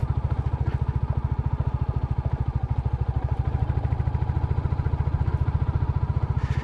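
A Royal Enfield Classic motorcycle engine chugs at low revs in second gear off-road, a deep, steady rapid thumping pulse close to the rider that holds even throughout with no talking.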